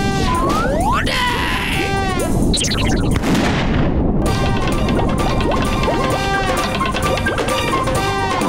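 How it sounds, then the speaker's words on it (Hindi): Cartoon gunfire in an animated action scene, a dense stream of loud zapping shots and crashes running without a break, with whooshing sweeps and impact bangs, up close and busy. "Keep firing."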